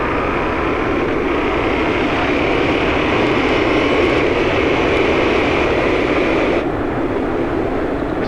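A Yamaha MT-07 motorcycle engine while riding, a steady loud drone mixed with rushing wind that holds nearly constant, with a slight change in tone late on.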